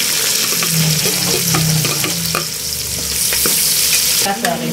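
Garlic sizzles and fries golden brown in a pan, loud and close, with steady crackling broken by frequent scraping stirs and clinks of the utensil, no talking.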